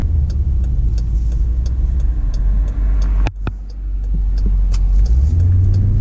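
A custom Jeep Grand Cherokee Limited engine rumbling low and steady from inside the cabin, building in strength toward the end after a brief dip, loud and close with no talk.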